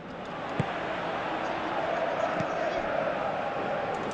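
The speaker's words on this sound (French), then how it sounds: "Il quitte le terrain, applaudi par tout un stade." Stadium crowd in Pro Evolution Soccer 2017 applauding a player as he leaves the pitch, a steady broad roar of clapping and cheering throughout, with a couple of brief thumps.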